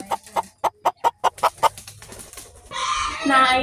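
A chicken clucks in a quick, even run of about eight sharp, close pulses, which then give way to a louder rush of noise.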